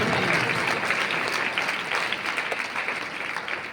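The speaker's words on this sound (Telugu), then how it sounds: "బిగ్గరగా విశ్వాసంతో చప్పట్లు కొట్టాలి" A congregation at an evangelical gospel meeting clapping hands loudly and rapidly, a dense, continuous burst of applause that carries steadily throughout.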